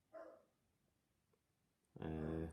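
A pet dog barking indoors, one short bark, then a pause and a louder, more sustained bark at the end, fairly close, with no other sounds.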